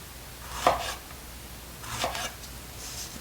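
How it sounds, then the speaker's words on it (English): A knife slices through fajita ingredients on a board, giving two soft, separate cuts about a second and a half apart in an otherwise quiet kitchen. "So you want to cut these in slices."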